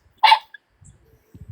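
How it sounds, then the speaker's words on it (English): Pet dog gives a single sharp bark at close range indoors, followed by quiet low murmuring and faint background noise. "Is your dog all right?"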